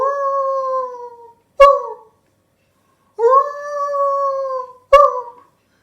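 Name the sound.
person imitating a wolf howl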